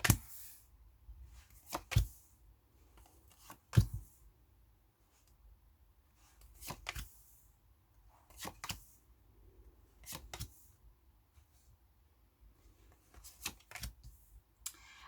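Tarot cards being shuffled and drawn during a reading, heard as sharp, brief riffling snaps and slaps that recur irregularly every second or two against a quiet room, with no talking.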